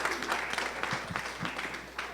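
An audience applauds at a live reading event, with a steady wash of clapping that carries evenly through the whole short stretch at moderate loudness.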